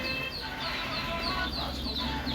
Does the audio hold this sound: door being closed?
no